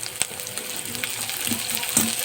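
Chopped onion sizzling steadily in a hot pan while making veg manchurian with cabbage, with a few light scraping stirs over the hiss.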